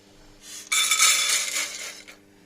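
Roasted cowpeas are tipped into a metal pressure cooker, a bright rattling clatter of dry legumes against the pot that lasts about a second and a half, close and fairly loud, with no talking.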